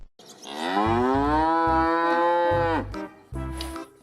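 Toy cow gives a long, loud, drawn-out electronic moo that falls in pitch at the end, followed by a shorter second moo, with clicky thumps beneath.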